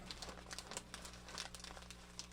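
Paper packaging crinkles and rustles as it is unwrapped, close and fairly quiet, in irregular crackling bursts over a low steady hum.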